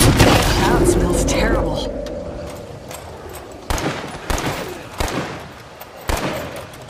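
Gunfire from Logan's weapon in State of Decay 2 cracks out in several sharp separate shots over a busy game backdrop, with voices talking underneath.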